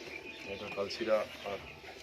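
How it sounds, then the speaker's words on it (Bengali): Murshidabad bali pigeons coo softly in a loft, low rolling calls close by, with a person talking over them. "মুর্শিদাবাদে বালি পায়রা"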